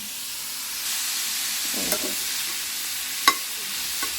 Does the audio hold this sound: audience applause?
no